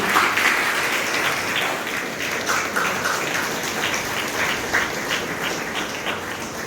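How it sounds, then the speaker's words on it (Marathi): Loud, steady applause from an audience at an anniversary celebration at a recreation centre in Vasai, greeting the honouring of a guest with a shawl and bouquet; dense clapping fills the whole stretch without pause. "टाळ्या जोरदार झाल्याच पाहिजे"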